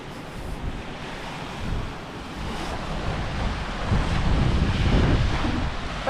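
Lake waves wash steadily against the Harrington Lake shoreline in the North Maine Woods, overlaid by heavy gusting wind buffeting the microphone and swelling louder toward the end, with no voices.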